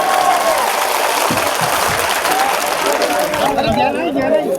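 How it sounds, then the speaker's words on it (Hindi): A crowd at a political gathering in Jaura claps loudly and steadily, with cheering and chatter mixed in and a voice speaking over the applause. "एक बार जोरदार तालियों का स्वागत कर दीजिए"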